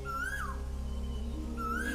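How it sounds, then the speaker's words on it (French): Two clear whistled bird calls, each a rising, sliding note, sound a second apart over a low steady background hum. "le chant des oiseaux"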